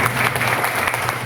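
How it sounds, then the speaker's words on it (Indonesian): An audience at a public speaking lecture claps together, giving a loud, dense burst of applause that fills the room for about a second. "Tepuk tangan untuk kita semuanya pada hari ini."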